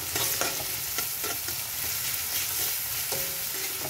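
Mixed greens and onion with salt sizzle and fry in a pan over raised heat while a utensil stirs and scrapes them in repeated strokes, close and clear, with no voices.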